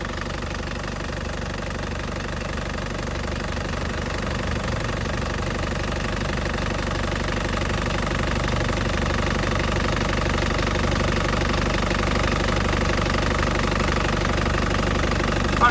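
A warm 2010 Isuzu Panther Grand Touring engine idling steadily up close, with a fast, even ticking rhythm and a constant low hum that stays level throughout.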